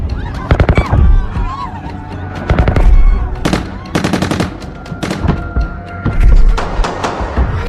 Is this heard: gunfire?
yes